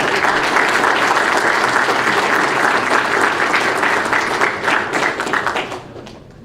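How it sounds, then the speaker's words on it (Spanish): Audience applause at an award ceremony during a Peruvian military presentation event, a dense steady wash of clapping from a large crowd that continues for several seconds and then fades out toward the end. "Un fuerte aplauso, por favor, damas y caballeros."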